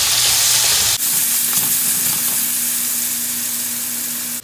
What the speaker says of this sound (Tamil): இந்த தக்காளியும் கொஞ்சம் நல்லா எண்ணெயிலேயே வேகட்டுங்க.